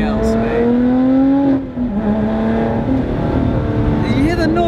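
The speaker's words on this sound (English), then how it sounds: "You hear the noise of when I change gear?" A supercar engine pulls hard and loud up close, its tone climbing steadily before dropping sharply at a quick gear change, then building again.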